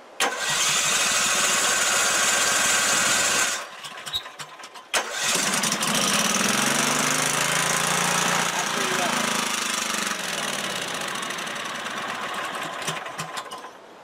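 An 8,000-watt generator engine runs loud and steady, cuts out briefly with a few clunks, then starts again and settles into a constant drone, heard up close.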